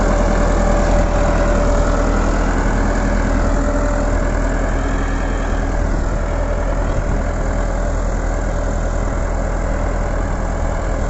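A red Massey Ferguson Millat 385 tractor working in a field making single beds for potato planting, its diesel engine droning steadily and loud, close and continuous without talk.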